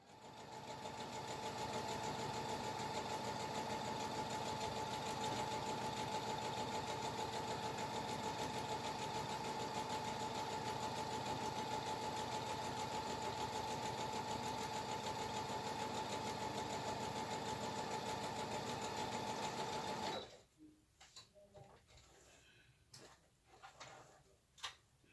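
A sewing machine runs steadily and loudly for about twenty seconds, stitching the last seam of a skirt with a constant mechanical whir, then stops, leaving a few quiet handling clicks and taps.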